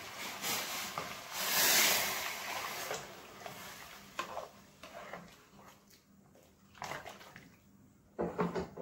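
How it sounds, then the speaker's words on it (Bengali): Hot water poured into cooked mung dal with rohu fish head in a kitchen pot: a steady rushing pour, loudest in the first two seconds, then thinning into softer splashes and light clinks. "দিয়ে দেবো গরম জল"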